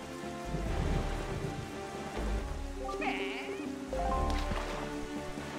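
Rain pours down in The Legend of Zelda: The Wind Waker as a steady wash under looping game music, with a few bleating, whinny-like tones and a low rumble that rises and falls.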